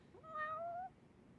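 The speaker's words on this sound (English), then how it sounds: "Oh, there's the cat." A single clear meow comes from a lost cat in the video game Lost Judgment, a brief rising-then-falling cry over a faint low background.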